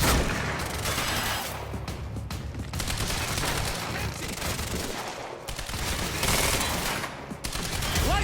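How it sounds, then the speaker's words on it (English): Enemies shoot in the video game Quantum Break, producing dense continuous gunfire of loud overlapping rapid shots and booming bursts, close and unbroken throughout. "Why are they still shooting us?"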